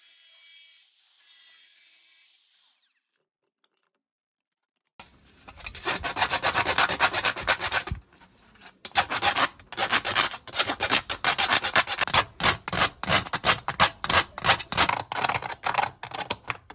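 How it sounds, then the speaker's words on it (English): A cut tin can cone being sanded down after its top was removed, giving steady, close rasping and rubbing strokes in rapid bursts that start after a few seconds of near silence. "Please clean it by sanding it down."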